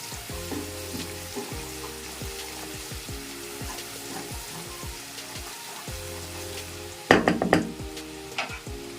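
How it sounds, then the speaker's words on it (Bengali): Masala for doi katla fish frying in a pan, with a continuous sizzle and stirring scrapes; near the end, louder bursts of bubbling and spattering come and go, close-up, with no one talking. "আমি আবার একটু ভালো করে নেড়ে এর কাঁচা গন্ধটাকে বের করে দিচ্ছি"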